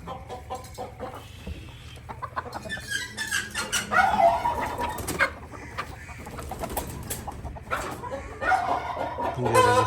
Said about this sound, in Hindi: सारी मुर्गियां बाहर आ गई हैं।